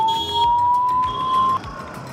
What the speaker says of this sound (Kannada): ಆಂಬುಲೆನ್ಸ್ ಜಾಗ ಬಿಡ್ರಪ್ಪ ಆಂಬುಲೆನ್ಸ್ಗ ಪಾಪ